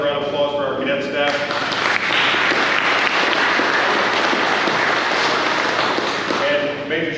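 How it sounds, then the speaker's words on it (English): A crowd at a search-and-rescue class graduation applauds loudly for the cadet staff, with a thick, sustained wash of clapping and some voices mixed in. "Let's have a round of applause for our cadet staff."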